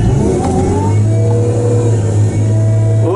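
A Tigercat 630E skidder engine runs loud and close, a steady mid-pitched drone with a slight rise in revs, holding evenly throughout without pause.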